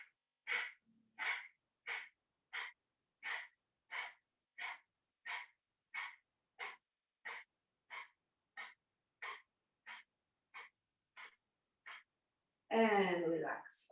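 Rapid rhythmic breathing during a yoga breathing exercise, about twenty sharp, evenly spaced forceful breaths close to the microphone, followed by a brief spoken voice at the end.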